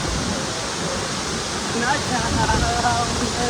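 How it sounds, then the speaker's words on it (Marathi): Steady, loud rush of a waterfall in Munnar, Kerala, filling the whole stretch as a constant roar, with faint voices appearing near the end. "आहे कुठलं तरी वॉटरफॉल आहे आणि दिसायला पण लई भारी वाटतं आहे"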